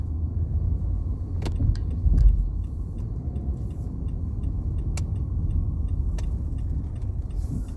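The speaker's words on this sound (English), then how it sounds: "We got a solid traffic jam just to get to the Schuylkill." Rush-hour traffic stuck in a solid jam on the way to the Schuylkill in Philadelphia's University City, heard as a constant low rumble of idling and creeping cars, with scattered sharp ticks and clicks over it and no voices.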